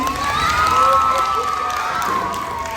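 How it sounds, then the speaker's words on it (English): A school audience of children cheers and shouts for a visiting author, a loud, sustained crowd roar with high voices carrying over it. "Can we give a big round of applause to Dr. Gibson?"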